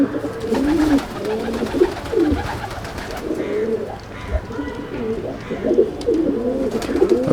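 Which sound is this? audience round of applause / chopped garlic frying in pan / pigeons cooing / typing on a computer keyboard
pigeons cooing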